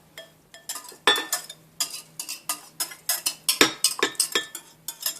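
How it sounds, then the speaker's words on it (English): Garlic and ginger are stirred together in a small bowl, a utensil clinking and scraping against the sides in quick, repeated taps that are close and fairly quiet. "I'm just going to go ahead and stir those together"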